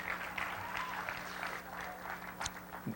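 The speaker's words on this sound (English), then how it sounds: "could I get a little applause on that?" Scattered applause from an audience at a high school academic awards ceremony, moderate and fairly steady for a few seconds, with a few voices and small noises mixed in.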